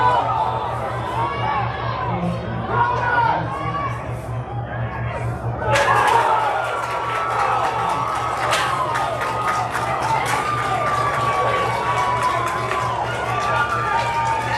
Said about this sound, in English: The roar of the crowd you just heard was Georgia Premier surviving against TNXL.